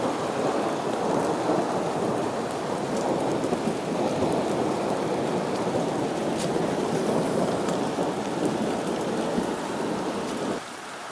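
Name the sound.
heavy rain with thunder outdoors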